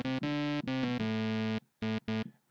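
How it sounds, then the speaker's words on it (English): Synth lead patch with the sine shaper engaged, part of building a house lead: bright, buzzy sustained notes in a short rhythmic phrase with a couple of gaps, loud and close with no voices. "So the sine shaper sounds like this."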